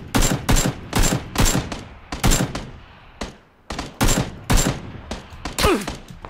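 Close, loud bursts of automatic gunfire from a PUBG firefight crack out in a quick rhythmic series with brief gaps between volleys, and a short pause near the middle.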